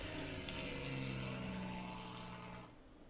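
A propeller aircraft roars steadily nearby, its engine drone building slightly as it passes, then fading off toward the end.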